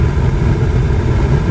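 Loud, steady rushing roar of a Tesla Model 3's climate fan blowing hard, constant and close, with no talking.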